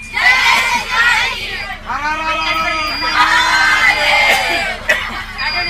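Schoolchildren of Yashwant Vidyalaya, Ahmedpur, shout slogans in loud, ragged unison before setting off on a school trip, with whoops and cheers rising from a dense crowd of young voices throughout.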